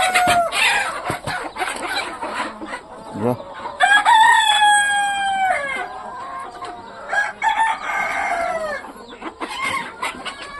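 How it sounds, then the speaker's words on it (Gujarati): Several roosters crow loudly one after another, their long rising-and-falling calls overlapping, with some clucking in between. "આવી ગયા અમારા કુકડા"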